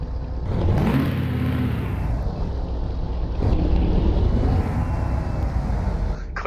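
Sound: DAF truck engine driving in Euro Truck Simulator 2 video game

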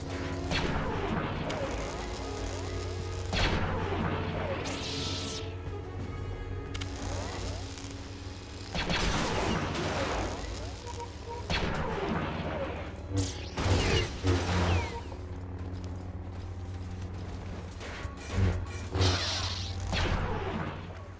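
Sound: big explosion in video game Star Wars The Clone Wars Republic Heroes

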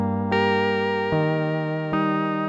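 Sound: synthesizer preset

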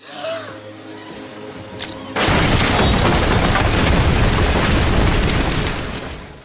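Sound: explosion

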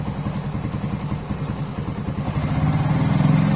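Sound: motorcycle engine revved to high RPM

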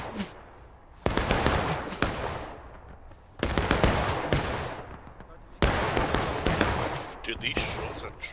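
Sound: gunfire with shots whizzing past, from a video game

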